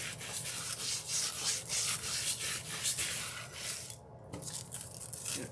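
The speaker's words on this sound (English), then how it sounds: "we're going to give this a little scrub." Repeated quick rubbing strokes as metallic nail foil is scrubbed onto a fingernail, close and fairly loud, a steady scratchy rhythm with a brief pause near the end.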